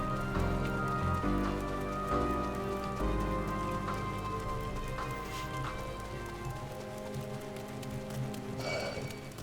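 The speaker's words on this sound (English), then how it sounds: "Oh, it's raining." Steady rain in the Final Fantasy XIV game world falls as a continuous hiss, layered over in-game music with a low rhythmic bed, with a brighter burst near the end.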